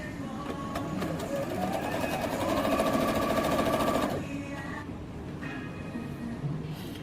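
A sewing machine runs steadily for about four seconds, stitching a fabric binding strip joined into a loop for a scrap-fabric tote bag, then stops, leaving quieter handling noise.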